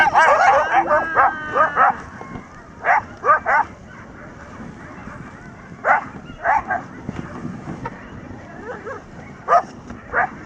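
Sled dogs bark and yip in short clustered bursts with whimpers between, fairly close and recurring every second or two, while people talk nearby.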